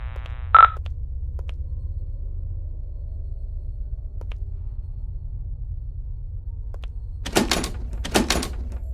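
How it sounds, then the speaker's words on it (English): In the horror game Paranormal Entities, a locked asylum door is tried: a brief electronic tone first, then quiet ambience with faint ticks, and finally two rattling thumps near the end. "This door's locked too."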